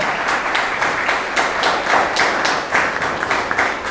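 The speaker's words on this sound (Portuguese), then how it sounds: "Palmas para esse Deus, aleluia!" Church congregation applauding during a sermon, a steady dense wash of clapping with rhythmic pulses roughly every half second, fairly loud and continuous throughout.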